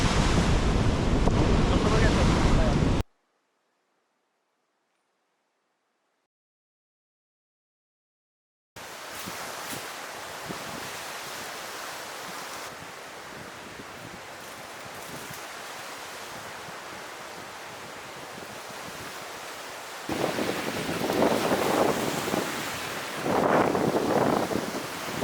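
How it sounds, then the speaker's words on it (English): Strong wind and crashing surf on a beach in rainy weather, loud blustery noise buffeting the microphone, cut by a few seconds of silence, then steady roaring waves that swell louder near the end. "And it is super windy today."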